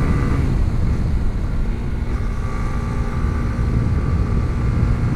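A Honda CB150X motorcycle climbs a mountain road under a steady, droning engine note, heavily buffeted by wind rushing across the microphone, with no talk.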